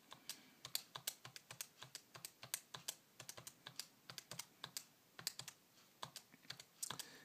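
Data values being keyed into a calculator, a quick run of light clicking key presses at an uneven pace with short pauses, close and quiet with no voices.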